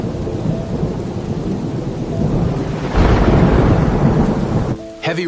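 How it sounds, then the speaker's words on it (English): Heavy rain pours down steadily with loud rumbling thunder through a stormy spell, the downpour swelling louder partway through before a brief shift near the end. "This storm looks serious."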